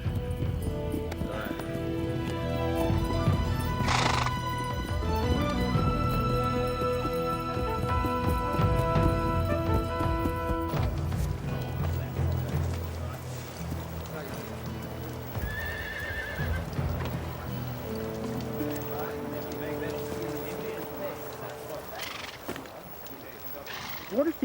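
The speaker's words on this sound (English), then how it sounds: "these horses don't give up" Horses whinny loudly over a steady clatter of hooves, with voices speaking and other sounds mixed in throughout.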